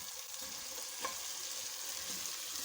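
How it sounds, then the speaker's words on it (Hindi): Fish frying in a spice masala for a curry gives a faint, steady sizzle with a soft stirring scrape near the middle, quiet and without talk. "मसाले के साथ हमें फ़िश को थोड़ा भूनना है"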